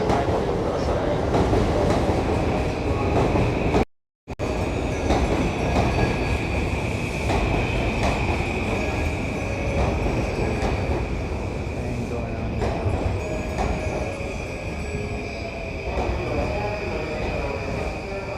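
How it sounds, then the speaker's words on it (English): A Yamanote Line commuter train in Tokyo rumbles past close by toward Ebisu, with a steady electric whine and rhythmic wheel clatter, continuing loudly for the whole stretch. "Here it comes. So the train is coming this direction,"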